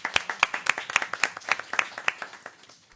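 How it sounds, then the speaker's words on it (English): A small group at a senior advisory committee meeting claps for a staff member, a brisk, fairly even patter of individual hand claps that fades out after a few seconds. "let's give her a big round of applause"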